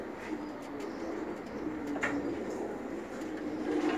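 Aslanbaş pigeons, a soft-feathered breed recently paired, cooing in a loft with low, rolling murmurs that repeat throughout amid faint background noise.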